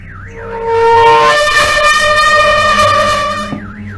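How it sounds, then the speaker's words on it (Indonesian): A car alarm goes off at night, loud and close. A warbling siren tone opens and closes the sound, with a sustained, piercing electronic tone blaring in between. "mendengar suara alarm mobilnya yang berbunyi"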